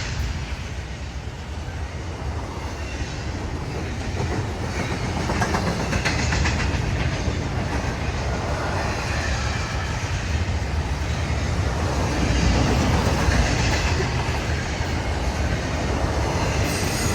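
A CSX freight train passes at night at CP39 north of Greencastle, Indiana, a loud continuous rumble of wheels and cars with squealing and clickety-clack, slowly swelling and with no talk.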